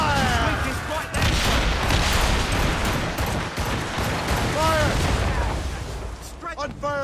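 Ship cannons fire in a naval battle in Assassin's Creed Rogue, a dense roaring barrage of booms and rumbling blasts. Shouted voices break through the chaos now and then.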